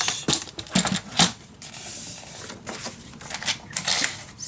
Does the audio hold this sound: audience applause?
no